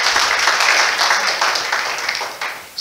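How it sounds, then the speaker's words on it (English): A church congregation applauds steadily, a dense wash of clapping from many hands that holds for a few seconds and tapers slightly toward the end. "Let's give him a round of applause."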